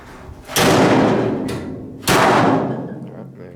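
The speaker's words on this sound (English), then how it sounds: "So the bonnet shuts." The bonnet of a Toyota Corona drift car is slammed shut twice. Each hit is a loud, close metallic thud, with a brief rattle between the two.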